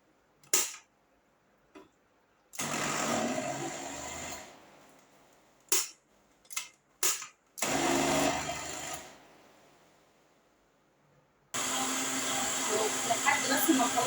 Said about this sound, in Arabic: انا هنا كده اخلي بقى الخلاط شويه مع نفسه